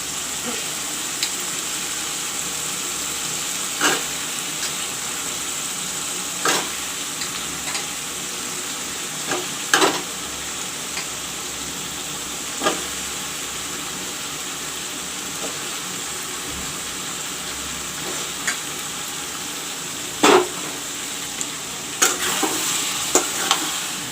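Drumsticks and potatoes fry in a pan of curry base, a steady loud sizzle running throughout while a spoon scrapes and knocks against the pan every few seconds as they are stirred.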